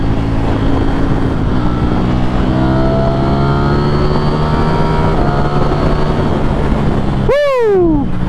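A 2023 Ducati Streetfighter V4 with a flashed ECU revs hard under loud, steady wind rush, its engine note climbing through rising harmonics before a sharp high-pitched swoop near the end as it passes.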